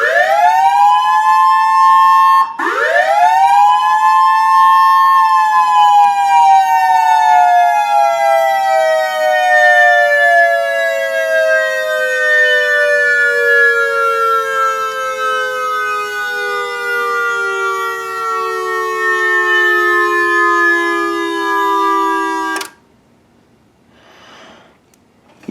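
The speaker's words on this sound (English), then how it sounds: "I'll do whoop signal." A Whelen electronic siren sounds a whoop signal, loud and close: two rising sweeps, the second holding and then slowly falling for many seconds before cutting off abruptly into near silence.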